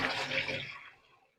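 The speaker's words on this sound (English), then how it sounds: "We're going to pour it. I've got my strainer again across the pot." Black walnut dye liquid is poured slowly through a strainer into a pot, a close splashing gush that tapers off and fades to silence within about a second.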